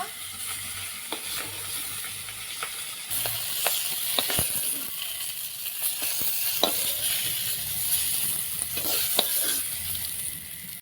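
Pangas fish pieces frying in hot oil, cooked for a recipe with sponge gourd, giving a steady close sizzle with crackles and occasional stirring scrapes for the whole stretch.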